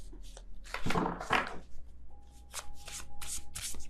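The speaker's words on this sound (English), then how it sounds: "I'm trying to be careful as I shuffle my cards" Tarot cards are shuffled by hand in quick bursts of riffling and sliding, close up, with soft pauses between shuffles.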